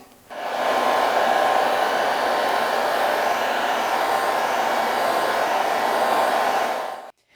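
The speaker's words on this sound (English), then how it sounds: "I'm going to use a low heat gun, aka a blow dryer" A blow dryer used as a low heat gun to warm a vinyl stripe on a Porsche GT4 blows steadily for about seven seconds, a loud, close, even whooshing hum that switches on and off cleanly.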